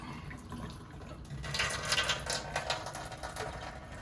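Water runs from a kitchen faucet during a faucet replacement, a steady hiss and splash that swells louder halfway through, heard alone without talk.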